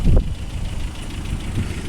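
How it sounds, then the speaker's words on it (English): A plow truck engine idling in the snow, a low steady rumble with a slight knock, fairly close and running alone without talk. "That motor doesn't sound any different than it ever did."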